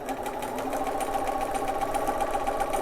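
A sewing machine stitching around a padded Polly Pocket A5 fabric case with wadding, a fast continuous mechanical whirr and rapid needle chatter, close and loud, running steadily without pause and with no voices.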